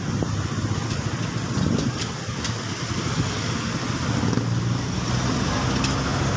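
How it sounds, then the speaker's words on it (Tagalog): Heavy road traffic flows past on a busy street in Oyang-Goril during the holiday rush, a continuous roar of cars and motorcycles with engine swells and a few faint horn-like tones, no talking. "Sobrang traffic"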